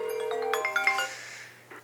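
Outbound call ringing on an Ooma Office desk phone: a short electronic tone sequence, a sustained note followed by a few quick stepped chimes that fade out, heard close and alone.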